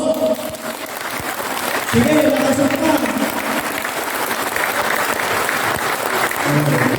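A church congregation applauding loudly during a sermon, a broad steady roar of clapping that holds throughout, with voices speaking over it.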